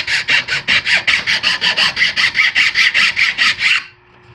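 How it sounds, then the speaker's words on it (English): A triangular file rasps rhythmically across a wooden axe handle wedge, about nineteen quick even back-and-forth strokes, close and loud, ending abruptly. "a triangular file, or one of those little knife blade files. Just so it doesn't dig into the wedge as it's being driven in."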